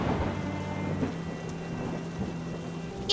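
Rain falls steadily with thunder in the background, a continuous wet hiss over a low rumble, with a soft tonal hum underneath and a sharp burst at the very end.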